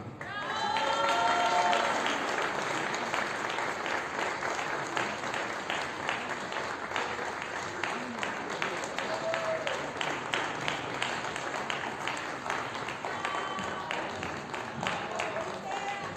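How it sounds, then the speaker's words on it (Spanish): An audience at a Mexican cultural ceremony applauds in sustained, even clapping that swells at first and then holds steady, with a voice speaking over it near the start. "Merecido el aplauso para los restauradores y restauradoras"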